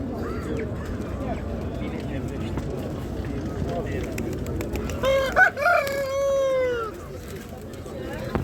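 Birds and poultry at the Ganja bird market in Azerbaijan: background chatter and crowd noise, then a burst of bird calls and a rooster-like crow partway through.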